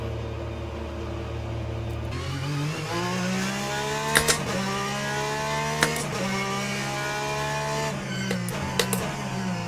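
A race car engine in the sim racing game Le Mans Ultimate drones loudly and steadily, its pitch climbing and falling through gear changes, with a few sharp clicks and bumps over the top and no talking.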